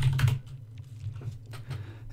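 Keystrokes on a computer keyboard as a MySQL password is entered, a quick burst of clicks at the start followed by a few scattered, lighter taps over a low steady hum.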